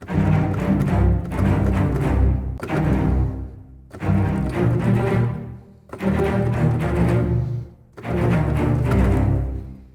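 Layered strings play short, punchy chords in repeated bursts, each block of notes cut off cleanly before the next, full and resonant.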